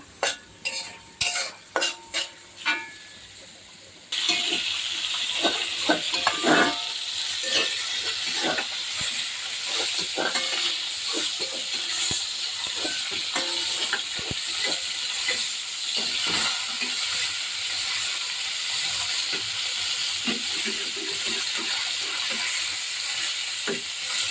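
Onions and chillies sizzle steadily in a kadai for eggplant bhuna, a loud continuous fry with frequent stirring scrapes, after a few sharp clinks of utensils at the start.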